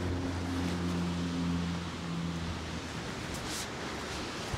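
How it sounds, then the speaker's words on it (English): Strong gusting wind buffets an outdoor fishing spot during a storm, a steady roaring rush that swells and eases with the gusts, loud and close with no talk. "But that wind's gusting quite hard now."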